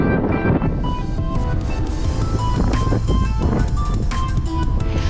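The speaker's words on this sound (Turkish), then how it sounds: "Çok fena rüzgar esiyor." Strong wind buffets the microphone in a continuous loud roar that rumbles without pause from start to end, at the Erciyes ski resort in Kayseri, Turkey.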